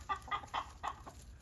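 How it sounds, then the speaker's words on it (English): A rooster clucks in four or five short, quick bursts, close by and moderately quiet. "That's a rooster."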